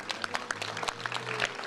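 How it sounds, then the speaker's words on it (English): An audience at a residential building groundbreaking ceremony claps briefly, with a short burst of scattered, moderately distant hand claps. "Let's give them a round of applause."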